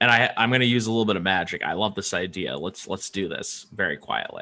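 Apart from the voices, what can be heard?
No distinct noise like a dog, phone or traffic.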